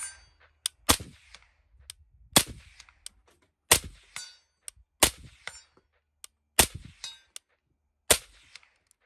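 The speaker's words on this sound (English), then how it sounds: "this is the Boss XC on a Rattler, shooting 300 black, supersonics, 100 yards" A suppressed SIG Rattler rifle fires .300 Blackout supersonic rounds fitted with a Boss XC suppressor, aimed at a 100-yard target. Six sharp, loud cracks come at irregular intervals of about one to one and a half seconds, with a brief ring after each one.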